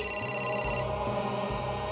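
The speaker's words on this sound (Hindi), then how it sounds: "किसका फोन है?" Phone ringtone chiming in a repeating electronic pattern for under a second before cutting off, leaving a quiet room tone.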